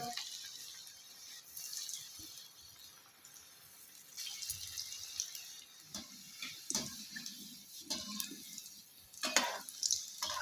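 Potato cutlets for a fasting recipe frying in oil over a low flame, a quiet bubbling hiss with soft crackles and small pops that grow busier toward the end, no voices.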